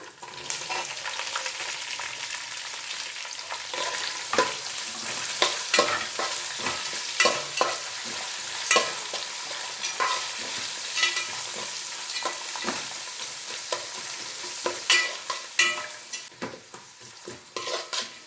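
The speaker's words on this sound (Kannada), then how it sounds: "ಈ ರೀತಿ ಫ್ರೈ ಮಾಡೋಣ ಈರುಳ್ಳಿನ ಎಣ್ಣೆನಲ್ಲಿ" Onions with green chillies and curry leaves fry in oil for tomato rice, a steady sizzle under repeated scraping stirs of a spoon against the pan, close and continuous.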